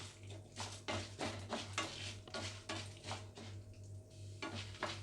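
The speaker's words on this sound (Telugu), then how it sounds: "మాడకుండా బాగా అటు ఇటు తిప్పుకుంటూ మంచి కలర్ వచ్చే వరకు, బ్రౌన్ కలర్ వచ్చే వరకు ఫ్రై చేసుకోవాలి" A spoon scrapes and stirs urad dal and chana dal frying in a pan, with rapid rhythmic clattering strokes over a soft sizzle, close by with no talking.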